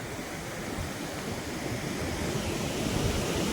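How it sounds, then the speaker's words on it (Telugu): Wind-driven sea waves roll onto a beach, forming a dense, continuous roar of surf with steady buffeting wind and no voices. "ఇక్కడ అలలు కూడా కొంచెం విపరీతమయ్యాయి గాలికి పెద్దవవుతున్నాయి"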